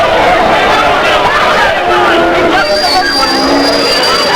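Wrestling arena crowd cheering for The Clown, Doink, as he comes to the ring, a dense steady roar of voices and shouts with a commentator talking over it.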